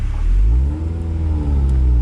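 A Toyota MR2 SW20 with a Mongoose exhaust revs steadily at close range in a tunnel, its deep exhaust rumble rising slightly in pitch before settling, continuous for the whole stretch with no talking.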